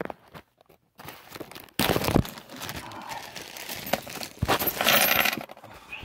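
Pennies are handled in a bag, producing a jingling, crinkling clatter of coins and plastic in bursts of varying loudness, close by, with brief silent gaps.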